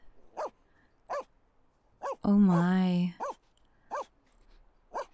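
Dalmatian puppies in The Sims 4 giving short, evenly spaced yips and barks, with one longer whining howl in the middle, close and clear while a person briefly reacts.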